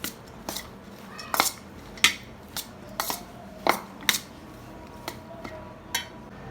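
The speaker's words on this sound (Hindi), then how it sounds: "इसमें चाट मसाला ऐड करके मिक्स करना है।" Chaat filling being stirred with chaat masala in a bowl for gol gappay, giving a series of sharp, irregular clinks and scrapes of a utensil against the bowl, close and fairly loud over a quiet background.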